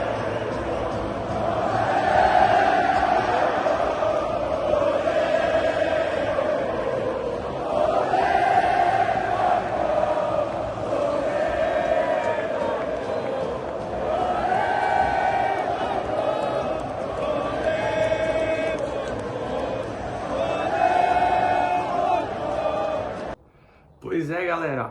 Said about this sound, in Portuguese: queria deixar esse trecho da torcida antes do apito inicial